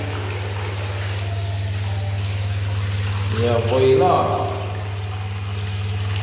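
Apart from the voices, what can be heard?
milk tap running, filling a bath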